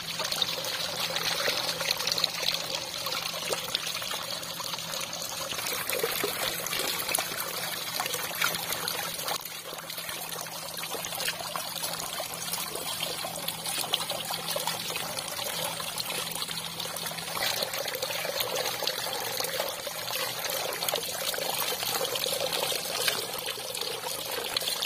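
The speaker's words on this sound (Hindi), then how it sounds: "डेकोर के साथ बनाया हुआ है पानी का, खूबसूरत देखने के लिए ऐसे पानी गिरता है।" Water driven by an AC motor pump pours down a decorative cascade in a village setting, a steady, loud, continuous splashing rush that stays even throughout with no talk.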